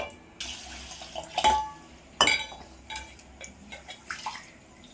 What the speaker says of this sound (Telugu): మనం తీసుకున్న బియ్యము అట్నే వేయించుకున్న పెసరపప్పు రెండు వేసి మిక్స్ చేసి శుభ్రంగా కడుక్కోవాలి